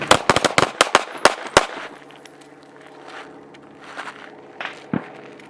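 A rapid burst of sharp, loud gunshots rings out during a desert shooting training drill, about a dozen cracks within roughly a second and a half. Quieter shuffling and a few isolated pops follow.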